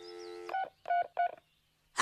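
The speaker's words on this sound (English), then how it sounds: "Bobby, if you're gonna fake dial, you gotta hit more than three numbers" Three separate telephone keypad tones, each a short steady dual-pitch beep with brief gaps between, sounding on a household phone in an animated sitcom scene after a dial tone.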